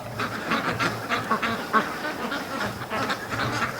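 A large goose honks loudly among quacking ducks in a free-range flock, with repeated close calls overlapping in an irregular, noisy chorus throughout; no speech.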